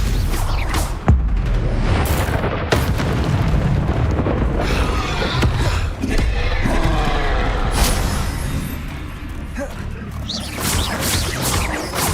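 Repeated blasting spell explosions during a Hogwarts Legacy combat fight, loud booms and sharp bursts over continuous roaring, growling battle noise, dense and close throughout with no one speaking.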